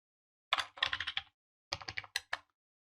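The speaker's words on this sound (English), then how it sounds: "we'll type in Russell after Walsh." Keyboard typing in two quick bursts of clicking keystrokes, close and fairly quiet, with a short pause between them.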